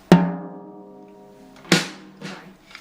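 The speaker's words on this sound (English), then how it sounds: "With the regular drumstick, makes sound like this." A drum struck with a regular drumstick rings out in two sharp, loud hits about a second and a half apart, each with a sustained tonal decay, followed by a softer third tap.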